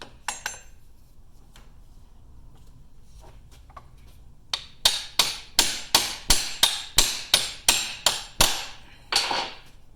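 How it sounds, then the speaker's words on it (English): A hammer strikes the U-joint cap on a Polaris RZR prop shaft about a dozen times in quick, even succession, each hit a sharp, close metallic clang, after some quieter handling of parts. "You can see as I'm hitting that the cap is starting to protrude from the yoke."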